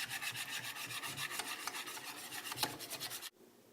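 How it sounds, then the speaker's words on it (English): A whisk scrapes rhythmically and briskly through a raw chocolate mixture in a bowl, close and steady for about three seconds before stopping abruptly. "Give it a good little whisk."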